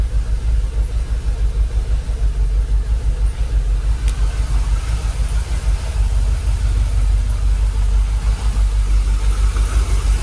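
A Jaguar XKR engine idles steadily up close, a loud, even low rumble with a fast pulsing beat that holds for the whole stretch.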